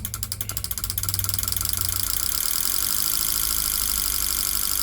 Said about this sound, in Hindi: और ये फ्यूल पंप चालू हो गया।